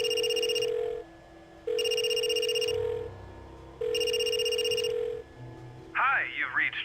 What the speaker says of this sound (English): if you use your cell phone here to try to call Jeremy's phone